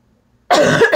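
Person coughing after swallowing saliva the wrong way: a single close, loud, harsh cough bursts in abruptly after half a second of silence.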